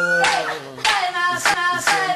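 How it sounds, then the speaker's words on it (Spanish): Hands clap in a steady rhythm of about four sharp claps, close and fairly loud, over sustained singing or voices during a sung group performance. "palmas, palmas, palmas, palmas"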